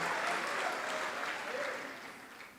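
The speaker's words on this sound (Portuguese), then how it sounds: "aplauda o nome do Senhor" Church congregation applauding in praise during a sermon, a dense, steady wash of clapping that fills the space and slowly tapers off toward the end.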